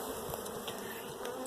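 Dense, steady buzzing of many honey bees swarming around a large, very busy hive, a continuous close drone without breaks and no voices.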